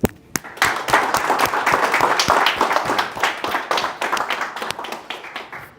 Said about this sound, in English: give our students a round of applause.